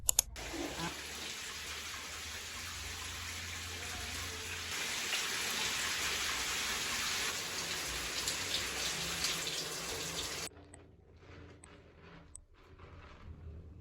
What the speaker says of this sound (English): I just finished taking a shower